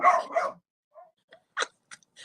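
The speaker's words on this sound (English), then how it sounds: "There is no inside voice with that dog." A dog barks indoors in a couple of quick, loud yaps followed by several fainter, scattered short barks and yips, with no talk over them.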